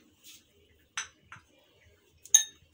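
Metal fork clinking against a dish while lifting egg-dipped chicken nuggets for crumb coating, a few sharp, bright isolated taps spaced apart in a quiet kitchen, the last strike loudest.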